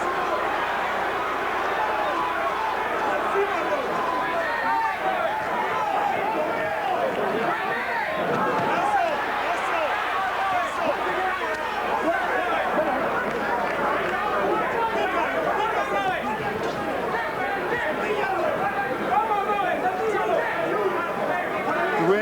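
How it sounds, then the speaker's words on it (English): Boxing arena crowd in a super middleweight title bout, a continuous busy hubbub of shouting and chatter that stays steady throughout, with a commentator talking over it. "Now you can hear the crowd again"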